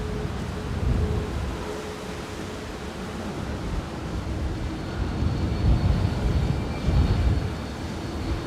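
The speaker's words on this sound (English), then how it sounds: "Next in is Ryanair from Copenhagen" A Ryanair airliner arriving at Manchester Airport from Copenhagen, a broad, rumbling engine roar at moderate distance that swells and fades gently over the stretch.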